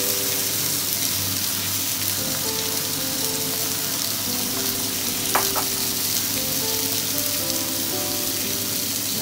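Bell pepper sautéing with wilted onions and broth in a pan, a dense continuous sizzle with soft stirring scrapes and one brief sharp clatter midway, close and steady.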